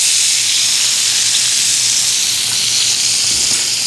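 Meat sears in a hot pan with a loud, continuous bright sizzle and hiss, steady and close, without pause for about four seconds.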